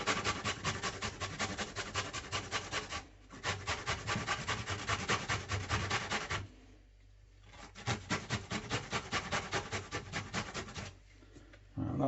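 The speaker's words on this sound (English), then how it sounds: "we basically just grate the ginger" Fresh ginger is rubbed against a grater in fast, rhythmic rasping strokes, close and steady, broken by two short pauses.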